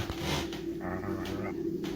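A dog growls low and steady indoors in a room, a continuous rumbling snarl with a few faint higher whimpering tones over it, close and fairly quiet.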